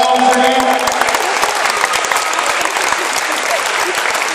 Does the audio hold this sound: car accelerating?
no